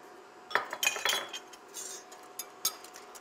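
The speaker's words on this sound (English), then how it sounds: "and I'm going to whisk that all together." A whisk clinks against a bowl while beating egg yolks with a pinch of salt, giving a few irregular metallic taps and scrapes, close and fairly quiet, with no talk.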